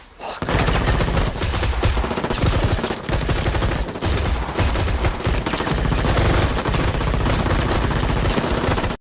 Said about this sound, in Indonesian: seketika tembakan beruntun menghujam mereka